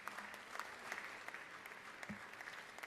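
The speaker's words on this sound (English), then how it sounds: "Members, give them a big round of applause." Lawmakers in the Georgia House of Representatives chamber applaud visiting middle school students, a faint, distant spread of steady clapping with a few sharper claps standing out.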